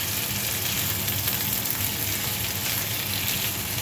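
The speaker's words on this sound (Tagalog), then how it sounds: "So, haluin lang natin siya." Chicken mechado simmers and sizzles in a pot, a dense, even bubbling hiss with faint stirring movement underneath, close up and without voices.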